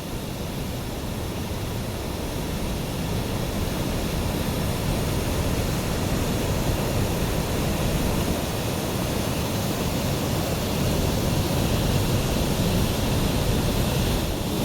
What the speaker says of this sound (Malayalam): വെള്ളത്തിൻ്റെ ഒഴുക്കും സ്പീഡും കണ്ടു കഴിഞ്ഞാൽ ഉണ്ടോ പേടിയാവും